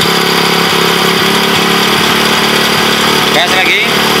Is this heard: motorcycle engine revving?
yes